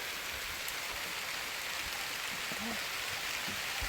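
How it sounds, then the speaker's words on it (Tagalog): Steady, heavy rain pours down as a dense, continuous hiss, with a voice faintly audible under the downpour. "Oh, lakas ng ulan na naman."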